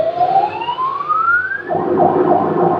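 A loud, close emergency medical response vehicle siren gives one rising whoop sweep, then shifts into a rougher, warbling tone.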